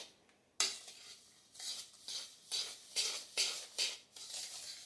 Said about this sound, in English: Make sure all those graham crackers are coated and that sugar is mixed in